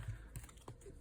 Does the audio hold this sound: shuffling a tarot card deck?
yes